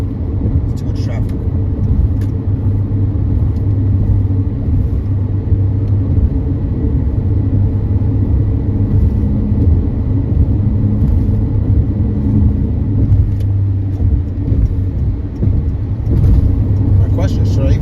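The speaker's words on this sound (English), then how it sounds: "It's too much traffic." Heavy highway traffic near Ocean Causeway toward Suffolk, a continuous loud rumble of passing cars with steady road roar and no pauses.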